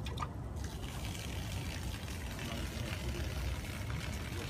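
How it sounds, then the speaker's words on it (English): A pump pushes water up through a pipe to drain an above-ground koi pond, giving a steady, faint, continuous gush and trickle with no pauses. "it'll force the water up through the pipe and out of the koi pond"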